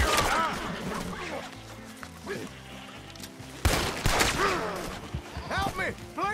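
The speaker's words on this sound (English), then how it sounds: "He's over here shooting at me and stuff." Gunfire in Red Dead Redemption 2 crackles as a loud burst of shots over busy game sound, with sharp cracks and a second volley midway, under a dense mix of effects and possible voices.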